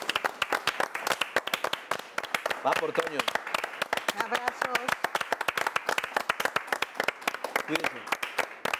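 Applause from a small group in tribute to cartoonist Antonio Helguera, a dense run of close, sharp hand claps continuing steadily, with a few voices speaking through it.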